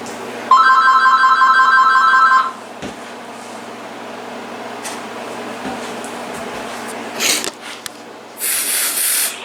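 An AT&T TL92328 cordless phone handset rings with a loud electronic warble in a single burst lasting about two seconds, followed by quiet room noise, a few handling clicks and short hissy bursts near the end.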